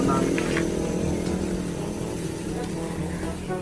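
Motorcycle engine running loudly and steadily at close range with a rough, buzzing drone, along with faint shouting voices in the background.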